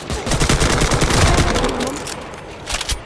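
Dense rapid gunfire and explosions from an online shooter game rattle continuously for about three seconds, loud and busy, with faint game sounds layered underneath.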